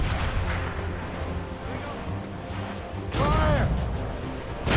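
Ship cannons fire in the Assassin's Creed video game, a dull, heavy boom and rumble of battle giving way to a louder blast near the end, amid shouting.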